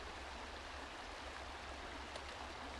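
A cold creek at Big Brushy Creek flows in a soft, steady, broadband rush, faint and continuous with nothing else standing out.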